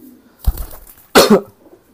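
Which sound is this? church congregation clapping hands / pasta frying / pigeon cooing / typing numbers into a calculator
pigeon cooing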